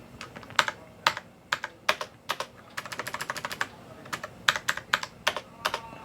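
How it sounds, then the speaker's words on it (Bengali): Keys tapped on a computer keyboard, backspace and enter among them, sound as crisp close clicks in uneven bursts, with a quick run of rapid presses in the middle and no talk. "সেই এন্টারটাকে আমরা মুছবো, ডিলিট করব ব্যাক স্পেস দিয়ে, আবার রি এন্টার প্রেস করব।"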